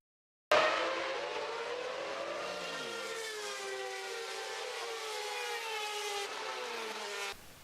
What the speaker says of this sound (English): Here is a better example from a Formula One race.